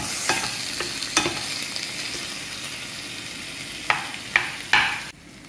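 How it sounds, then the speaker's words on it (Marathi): Dosa masala filling, loosened with a little water for an Instant No Eno No Soda fasting masala dosa, stir-fried in a pan: a steady low sizzle broken by a handful of sharp spatula scrapes and clinks, close up with no talking. "त्याला छान आपण परतून देऊ।"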